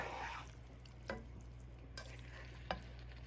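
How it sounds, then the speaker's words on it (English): Mushrooms are stirred into a pot of vegetable soup, soft wet sloshing under a faint simmer, broken by three sharp spoon knocks against the pot spaced about a second apart. "Just gonna mix the mushrooms in"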